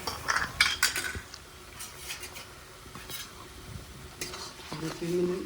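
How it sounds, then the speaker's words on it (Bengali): Close-up stirring and sizzling of ginger, garlic and green chilli paste with onions in a pan, with a spatula scraping and clinking against metal in bursts over a steady frying hiss. "2-3 মিনিট ভালো করে কষে নেবো।"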